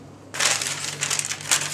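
Ordinary parchment paper is folded and crinkled around cheeseburger buns, a sudden loud rustling crackle that starts abruptly and continues in uneven crisp bursts, close up with no talking.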